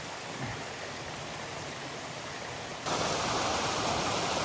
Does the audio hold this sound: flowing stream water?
yes